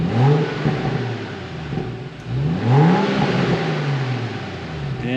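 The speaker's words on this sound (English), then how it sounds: "This is what the Burbles sound like in comfort mode." A BMW F30 with an MHD tune revs in comfort mode, its exhaust rising and falling in a couple of loud close revs that settle into a soft burbling idle.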